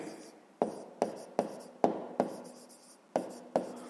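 Pen or marker strokes on paper or a board while working out a fifth-grade math exercise on a square's perimeter, with eight sharp taps and scratches coming at an irregular rhythm, close and fairly quiet, with no talking.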